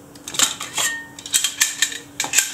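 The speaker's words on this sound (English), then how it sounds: "Now these are stainless steel pots." Late-1980s stainless steel camping pots from a Trangia stove kit clank and scrape together in a series of bright metallic knocks and rattles, close and loud, with no one speaking.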